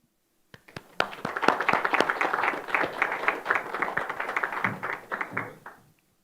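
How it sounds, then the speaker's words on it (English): A conference audience applauds at the end of a talk on immersive mixing for live sports, a few scattered claps growing into steady, moderately close clapping for about five seconds before tapering off. "I can confirm that the applause was real"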